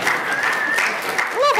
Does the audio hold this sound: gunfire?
no